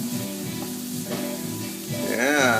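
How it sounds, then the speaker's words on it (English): Vegetables sautéing in leftover bacon grease in a pan make a steady close sizzle for a few seconds as pumpkin soup is prepared, with faint music in the background. "I'm sauteing them right now in the bacon grease that's left over in my pan"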